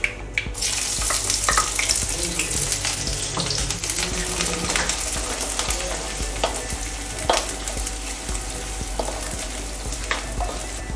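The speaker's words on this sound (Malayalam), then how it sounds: "അതിലേക്ക് നമുക്ക് ഉള്ളി ഇട്ട് കൊടുക്കാം." Onions fry in hot oil with popped mustard seeds in a pan for kingfish curry, a continuous close sizzle with scraping, clinking stirring strokes throughout.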